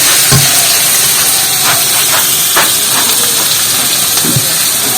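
Onions sizzling in hot mustard oil in a wok, a steady broadband hiss and crackle filling the whole stretch, with a few small pops and spits rising out of it.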